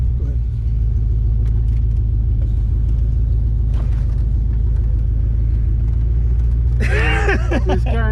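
Heavy, constant engine rumble of a car with an AOD automatic transmission accelerating, heard from the passenger seat, with a voice breaking in near the end.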